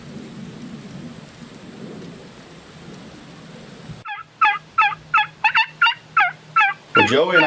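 Wild Osceola turkeys: after several seconds of rainy outdoor ambience, a run of about eight sharp, evenly spaced gobbles rings out close by, ending in a louder burst of gobbling.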